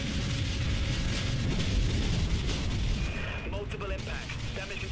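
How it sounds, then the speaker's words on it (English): Heavy warship cannons boom in a continuous rumbling barrage during a Dreadnought space battle, a dense low roar of artillery fire with occasional sharper bursts and faint voices underneath. "we're gonna fire on him because he is a lot easier to hit at the moment"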